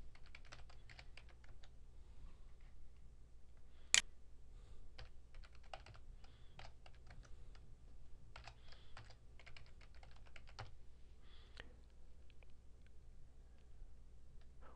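Quiet, irregular keystrokes on a computer keyboard tap out an ID and password in scattered clusters of light clicks, with one sharper click near the start.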